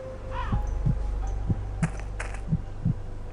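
Game heartbeat from Sanitarium on PC, a slow, steady series of low, soft thumps repeating about every second over a constant background hum.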